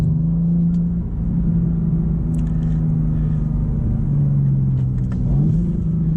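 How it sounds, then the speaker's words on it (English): Steady low road rumble inside a BMW M4 CSL with engine hum rising and shifting in pitch as it accelerates up to the speed limit, close and continuous without talk. "just to get a little bit of road noise, maybe one nice acceleration up to the speed limit"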